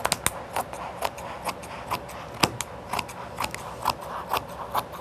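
Scissors snip through excess fabric while a hooded scarf is sewn: a run of crisp, close cuts in an irregular rhythm with short pauses between them, in a quiet room with no talking.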